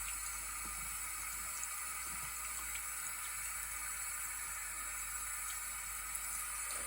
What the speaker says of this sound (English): So I'm just rinsing it just to see.